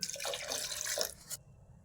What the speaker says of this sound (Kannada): ಒಂದು ಅರ್ಧ ಲೋಟ ನೀರು ಹಾಕ್ಕೊಳ್ತಾ ಇದ್ದೀನಿ